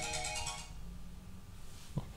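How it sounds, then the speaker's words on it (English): A mobile phone ringtone plays at moderate volume with a repeating melodic pattern for under a second, then fades into room tone, followed by a brief soft knock. "is that your phone?"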